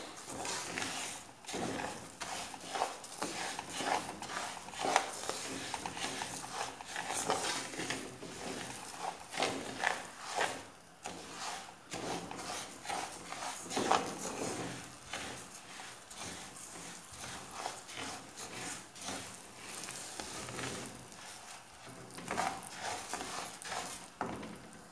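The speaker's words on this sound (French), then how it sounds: "on va remuer jusqu'à avoir une couleur légèrement dorée" Dry tlitli (bird's tongue) pasta toasted golden in a pan for an Algerian dish, stirred continuously with a dense, steady rattling and scraping that rises and falls in small surges for the whole stretch, with no talking.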